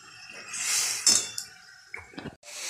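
Curry masala being sautéed in a pan with a splash of water gives a hissing sizzle that swells and fades, broken by a few sharp clinks of a utensil against the pan near the end.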